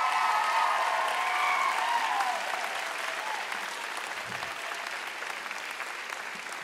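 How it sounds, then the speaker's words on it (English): Audience applause at a graduation ceremony, a dense wash of many hands clapping loudly at first, then gradually thinning and fading. "you ought to give your family and friends a round of applause."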